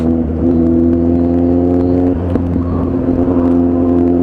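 A steady Kawasaki Z800 motorcycle engine drone holds at a constant pitch, loud and close, with small rises as the throttle is blipped; the clutch is slipping.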